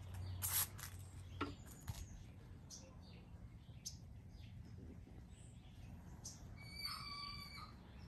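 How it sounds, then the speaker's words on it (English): A rooster crows faintly in the distance on a foggy autumn morning, one thin, drawn-out call near the end over a soft outdoor background with scattered small clicks. "Did you hear my chicken in the background, the rooster?"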